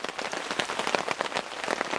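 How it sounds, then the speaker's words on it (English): Heavy rain pours down outdoors, a dense, close patter of drops drumming on surfaces with constant irregular spatter and no voices. "I don't know if you can hear right now how hard the rain's coming down, or the thunder that's in the background."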